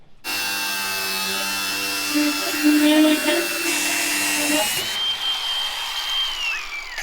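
A power tool cuts a clamped RV part, giving a loud, steady, high whine with shifting pitch for several seconds before it changes tone and trails off.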